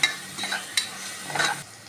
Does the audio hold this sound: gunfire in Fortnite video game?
no